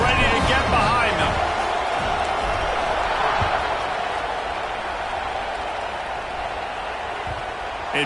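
Stadium crowd noise in the College Football 25 video game, a broad, steady roar of fans building before a kickoff with the home side leading by 3 in the final period, heard under continuous play-by-play commentary.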